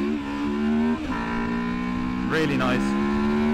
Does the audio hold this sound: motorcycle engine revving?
yes